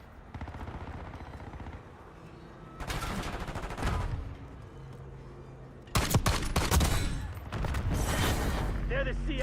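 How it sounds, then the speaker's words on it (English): Bursts of enemy marksman gunfire in a video game battle: rapid volleys of loud shots crack in two heavy clusters over a constant rumble of combat and background noise. "Enemy marksman shooting!"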